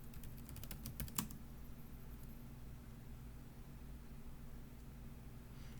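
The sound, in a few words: typing a password on a computer keyboard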